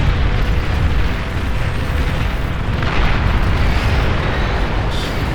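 Plasma artillery explosions in the BAR strategy game form a dense, continuous roar of overlapping booms and rumbling blasts, loud and sustained throughout with no pauses.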